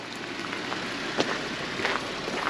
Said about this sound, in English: Obviously still raining out here.